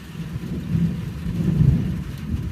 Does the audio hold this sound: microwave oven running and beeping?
no